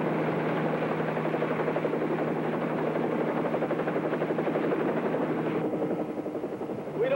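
A helicopter engine and rotor drone steadily and loudly throughout, near and continuous, with a slight change in tone toward the end.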